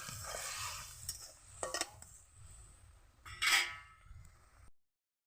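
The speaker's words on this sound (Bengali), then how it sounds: "একটু হলুদের গুঁড়ো দিয়ে দেব, একটু লঙ্কার গুঁড়ো দিয়ে দেব, নাড়িয়ে ছড়িয়ে দেব সুন্দর করে" Turmeric and chili powder being stirred into amra (hog plum) chutney in a pan, heard as quiet scrapes and a couple of louder metallic clinks of a spoon against the pan, then silence.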